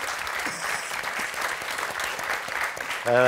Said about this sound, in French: jolie victoire d'Isabelle et de Cécile qu'on va applaudir très fort.